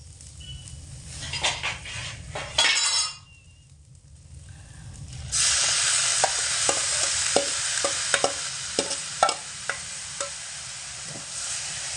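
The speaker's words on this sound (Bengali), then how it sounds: "চাল ডাল একসঙ্গে মশলার সঙ্গে ভালো করে কষিয়ে নেব মিডিয়াম আঁচে রেখে অনবরত নাড়াচাড়া করে" Soaked rice and lentils are stir-fried with spices in a pan over medium heat for khichuri, with steady sizzling and repeated scraping stirs.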